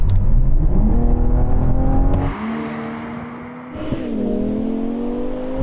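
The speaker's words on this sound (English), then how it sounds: "Now we're going for a rolling race from 50 miles an hour" A BMW M5 V10 Touring and a turbocharged BMW M440i roar and rev hard in a rolling drag race from 50 mph, pitch climbing steadily, dipping briefly at a gear change, then building again, loud and close.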